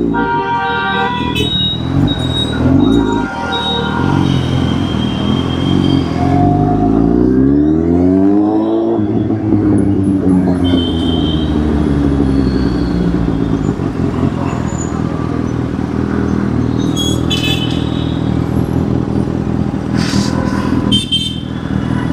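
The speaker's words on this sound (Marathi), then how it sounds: "चौकामध्ये ट्रॅफिक असं झालंय." Cars and motorcycles crowd a busy road intersection, with engines droning steadily up close, one rising and falling in pitch as it revs, and short horn toots breaking through now and then.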